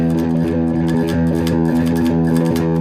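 Driving electric surf guitar rhythm, distorted and dense, picked rapidly in a tight galloping pattern without pause.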